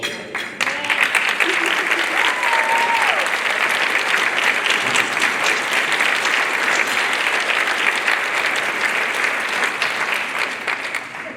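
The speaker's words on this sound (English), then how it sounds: "Would you please stand up for a round of applause?" At a Goodwill award ceremony, an audience gives a sustained round of applause for new emeritus staff, loud, dense clapping that starts abruptly and carries on evenly for over ten seconds.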